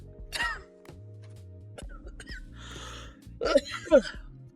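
A person with a bad cough coughs and clears their throat while assembling a Perfect Grade RX-78-2 Gunpla model kit, a few harsh bursts near the mic over a steady background hum.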